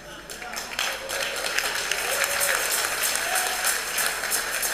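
A church congregation applauds during a service, a full, steady roar of many hands clapping over the whole stretch, loud and close, with some voices mingled in.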